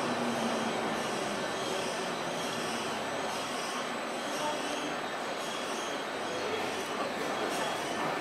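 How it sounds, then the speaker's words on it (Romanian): A funicular railway in Salzburg, Austria, rumbles along its track with a steady mechanical roar and faint squealing, continuous and moderately distant, with no speech. "Vine și funicularul"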